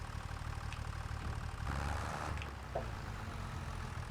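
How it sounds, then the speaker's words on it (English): A tractor engine idles in the video game Farming Simulator 25, a low, faint, steady hum with a slight swell midway and no talking. "if we can get our tractor to cooperate here"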